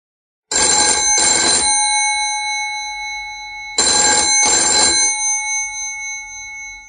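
An old-style telephone bell rings indoors in two loud double bursts, each pair of sharp metallic trills followed by a pause and a fading ring.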